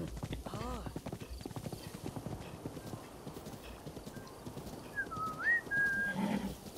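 Close, steady hoofbeats of a horse trotting in Zelda: Breath of the Wild, with a snorting whinny near the start and a rising whistle-like tone toward the end, under a muffled game soundscape.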